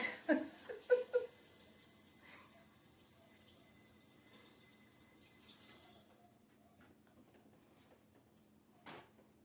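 Tap water runs steadily into a kitchen sink while an orange is washed beneath it, a soft continuous stream with a few knocks at the start, then the flow stops and one faint clunk follows.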